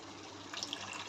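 A short, faint pour of water into egg curry in a pan, with a soft liquid trickle and splash over a steady low room hum.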